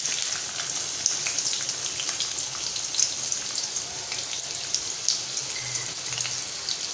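Onion dropped into hot oil for a tempering, frying with a soft, crackly sizzle and scattered small pops, fairly quiet and steady with no talk.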